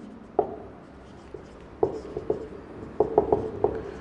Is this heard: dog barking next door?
no